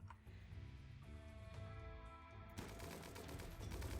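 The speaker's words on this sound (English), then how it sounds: "Oh, they're shooting." Mech enemies in the video game Rimworld open fire in a rapid, crackling burst of gunshots that sets in partway through and stays loud to the end, over a low background hum.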